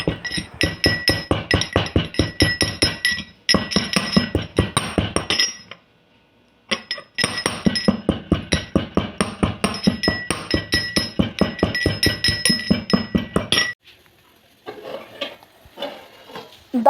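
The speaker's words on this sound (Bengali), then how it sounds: "এবার এলাচগুলোকে খোসা ছাড়িয়ে গুঁড়ো করে নিচ্ছি।" Cardamom pods peeled and crushed into powder, heard as rapid repeated pounding clinks in long runs, with brief pauses between bursts and softer handling noises near the end.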